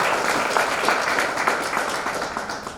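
An indoor assembly at a university graduation farewell party breaks into a dense burst of applause, steady and loud for the whole stretch, then easing slightly toward the end.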